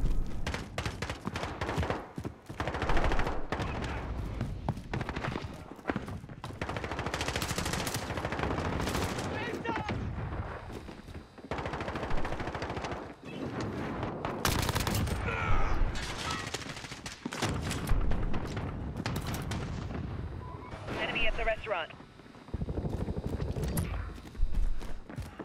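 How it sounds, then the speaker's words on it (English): Rapid bursts of gunfire in a Call of Duty Modern Warfare multiplayer match, with repeated automatic fire and sharp shots, plus footsteps between volleys. "I am shooting him, bro"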